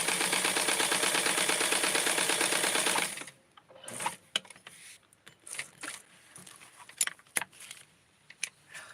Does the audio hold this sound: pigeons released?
no